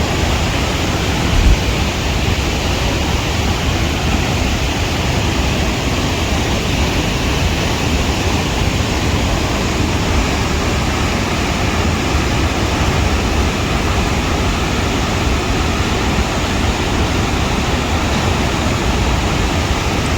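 The Huka Falls waterfall in New Zealand roars as a steady, loud, broadband rush of pouring water that runs unbroken and unchanging throughout, with no voices heard.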